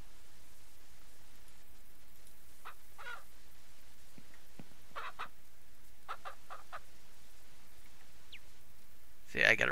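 Chickens and a rooster on a farm in Ranch Simulator give scattered clucks and short calls, faint and distant, over a quiet ambient bed, with a sharper burst near the end.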